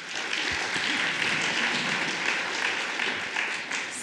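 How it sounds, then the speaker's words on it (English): An audience at a Slush legal tech event applauds a speaker, giving steady, even clapping from a crowd throughout. "So let's give him a round of applause."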